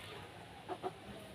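Chickens at a farm give two quick, soft clucks close by against a quiet background.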